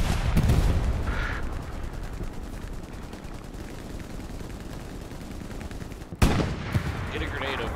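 Sustained machine gun fire rattles through a Hell Let Loose battle as a dense, continuous wash of rapid shots, broken by a sharper, louder burst near the end.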